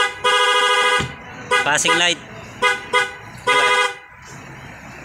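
The stock horn of a Honda CBR motorcycle sounds first, then a loud aftermarket dual contact horn, in several sharp honks of varying length. Blasts are loud and close, with someone talking briefly between them.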